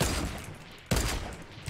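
Video game shootout gunfire, a dense crackle of shots with a sharp louder burst midway, close and continuous through the short stretch.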